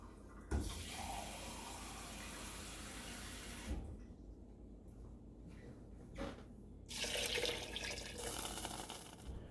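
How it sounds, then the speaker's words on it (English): Water runs from a tap in a steady stream into a cooking pot for beef stew, cutting off for a few seconds and then pouring again; no voices. "Then we're going to be adding 4 cups of water."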